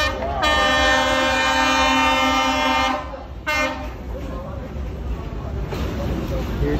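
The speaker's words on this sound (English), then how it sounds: "Here comes the train." A train horn sounds loud and sustained on Hanoi Train Street as the train approaches, blaring for about three seconds, cutting out briefly, then resuming before fading into rumbling rail noise while people talk nearby.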